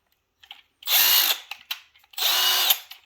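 A power drill-type tool used on a brake job runs in two bursts of about a second each, loud and close, with small clicks and handling noises before and between them.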